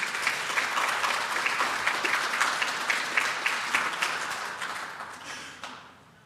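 A room of people clapping for young ladies after a junior ambassador speech at an Angus cattle industry event: a broad, steady round of applause that holds strong, then tapers and fades out near the end.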